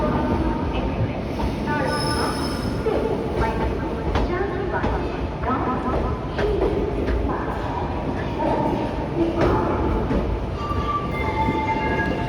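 The Mysuru-Renigunta superfast express rolls into KSR Bengaluru station with steady wheel rumble, rhythmic clatter over rail joints and occasional faint squeals, heard from on board.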